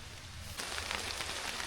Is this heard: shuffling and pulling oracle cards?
no